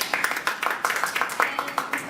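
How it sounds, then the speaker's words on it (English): Audience clapping at an English-language university forum, following an award for UNESCO Asia Pacific cultural heritage conservation; a crowd's claps come in loose, uneven bursts with a faint murmur underneath. "And a big clap for him."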